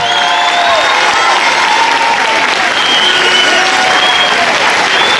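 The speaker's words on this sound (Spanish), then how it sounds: "Una ovación fuerte para los dos." Loud, continuous ovation from a crowd honoring a PE teacher and footballer Dani Carvajal at a tribute in Leganés, thick clapping with faint cheering mixed in throughout.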